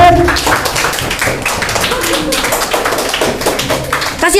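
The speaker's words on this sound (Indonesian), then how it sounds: "wah, tepuk tangan dulu dong," Schoolchildren at an elementary school assembly clap together, a moderately loud, busy patter of many hands that keeps going steadily with some chatter mixed in.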